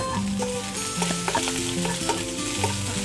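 Chopped ginger fries with torn dried red chillies in a pan for semiya upma, giving a loud, close, steady sizzle broken by frequent spoon scrapes and clinks, with no talking.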